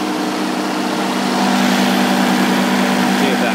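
A 1965 Kohler electric plant generator runs steadily before a load test, giving a loud, even engine drone with a constant hum and a slight rise in level partway through.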